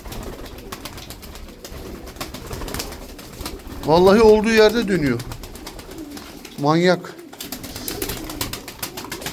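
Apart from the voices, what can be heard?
pigeons cooing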